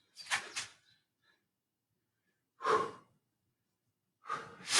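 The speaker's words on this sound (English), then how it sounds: "Two big deep breaths at the bottom." Deep, slow breathing during a floor stretch: a long airy exhale at the start, then after a quiet pause two more full, close breaths, the last one strong, with nothing else in between.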